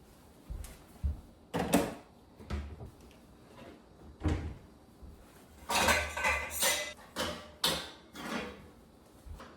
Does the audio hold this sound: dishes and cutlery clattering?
yes